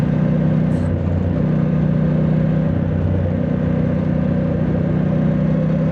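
Triumph Scrambler 1200 X motorcycle engine running steadily while riding, a loud, continuous low drone with a constant rumble and no pauses.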